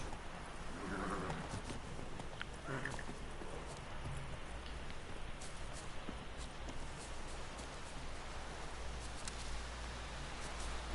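Geralt's horse Roach gallops in The Witcher 3 with faint, rhythmic hoof clip-clops over a soft rainy wash, quiet and steady throughout, with no voices.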